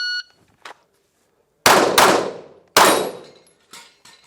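Three loud handgun shots crack close by during concealment shooting training, the first two in quick succession and a third after a short pause, each with a sharp attack and ringing decay, plus a faint clank.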